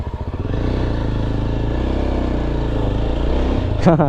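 A Yezdi Adventure motorcycle's engine runs steadily and close by, with a continuous low rumble throughout and a brief clatter near the end.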